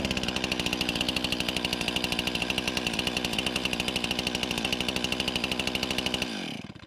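A chainsaw runs loud and close right after a spark plug replacement, its engine droning steadily with a fast rhythmic pulse before it shuts off abruptly near the end.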